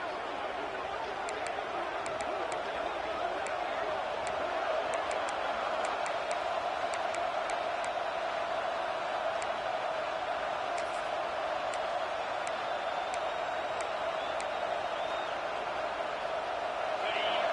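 Broad, steady roar of a large stadium crowd at a college football game, Bodie versus Walker, filling the whole stretch at an even level with faint scattered ticks and whistles on top.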